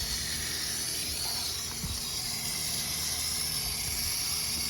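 Duragloss 701 whitewall tire cleaner sprayed onto a whitewall tire, a steady close hiss of aerosol spray running continuously without pause and no talking.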